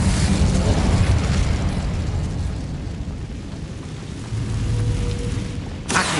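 A sustained roaring blast from an Incendiary fire spell in Hogwarts Legacy, loud and broadband, rumbling steadily for several seconds before a sharp cut near the end.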